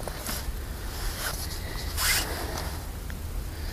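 A zipper on a Darche Urban Stealth LT1 tent is drawn in several quick, raspy bursts, close up and fairly quiet, with the longest pull near the end and no talking.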